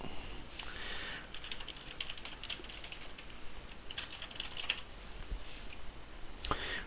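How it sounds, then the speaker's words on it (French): Computer keyboard typing in quick irregular clusters of soft key clicks, close but quiet over a steady background hiss, with no one speaking. "Je vais ici le taper hors cadre."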